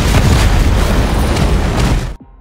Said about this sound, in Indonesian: ia pun langsung membuat ledakan yang membuat semua orang di sana menjadi panik